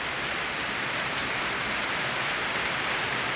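Heavy rain pours without a break, a dense loud hiss of drops striking surfaces close by, steady and alone.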